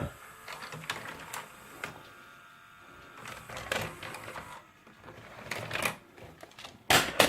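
A VCR ejects a VHS tape in a quiet room, its mechanism giving a few short clicks and whirring clunks spread across the moment, with the loudest mechanical clatter at the end.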